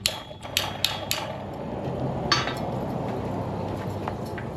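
A hammer strikes metal on a mini anvil in a few quick, close ringing blows at the start, followed by another lone hit amid a low background rumble.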